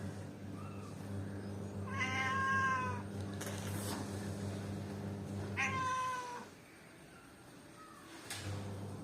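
Cat meowing indoors, two distinct drawn-out meows a few seconds apart with faint rustling between, fairly soft and close.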